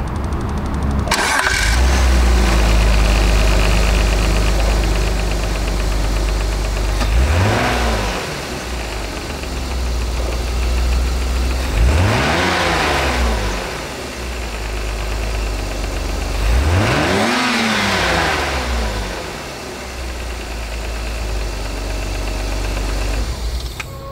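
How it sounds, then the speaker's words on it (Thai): A BMW E34 520iA Touring car engine starts with a crank, then idles steadily and is revved three times, each rev rising and falling back to idle, loud and close. "มาฟังเสียงเครื่องยนต์กัน"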